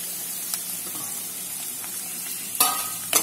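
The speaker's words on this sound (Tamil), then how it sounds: "வெங்காயம் நல்லா வதங்கணும்." Sliced onions sizzle and fry steadily in a pan for a Tamil-style mushroom gravy, with a constant hiss and a few short stirring scrapes near the end, close and alone.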